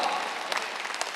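A church congregation at a Sunday service applauds, giving dense, steady clapping from many hands that sounds close and fairly loud for just over a second.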